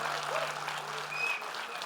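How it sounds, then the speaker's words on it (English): Applause from an audience at a masterclass on VFX and cinematography, a steady dense patter of many hands filling the short stretch at moderate level, with no voices over it. "Can we have a big round of applause for our celebrated speaker then?"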